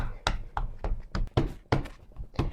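Hands pat out buttermilk biscuit dough on a work surface, making a quick series of soft, close thunks and taps in an uneven rhythm, with no talking.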